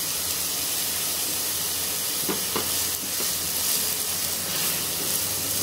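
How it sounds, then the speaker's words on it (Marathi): Long-sliced onion fries in a pan with a loud, continuous, even hiss and sizzle, close up, with a few faint stirring taps midway. "आता हा लांब चिरलेला कांदा घालूया।"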